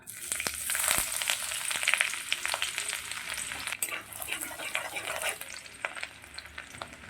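Chopped garlic frying in oil in a pan, a bright crackling sizzle with stirring clatter and scrapes, close and fairly loud at first, easing slightly toward the end.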